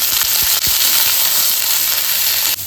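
Peas frying in hot oil with turmeric, dried chilli and urad dal in a home kitchen pan, a loud, steady, close sizzle that runs unbroken, with a few faint clinks near the start.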